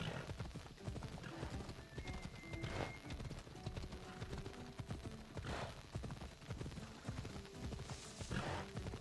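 Rapid hoofbeats of a galloping horse clatter steadily throughout in Assassin's Creed Odyssey, with a couple of whinnies rising over the busy mix of game music and effects.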